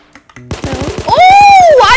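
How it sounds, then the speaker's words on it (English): Rapid automatic fire from a switch-equipped Glock in a video game, a fast, even train of close, loud pops lasting over a second, overlaid by a rising and falling tonal whine. "Bro, I got a little Glock switch."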